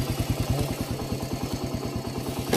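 A kick-started motorcycle engine runs in a steady, fast thumping idle, the repeated low pulses even and fairly loud and close throughout, with no voices over it.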